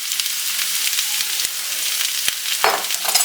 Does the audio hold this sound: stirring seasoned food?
yes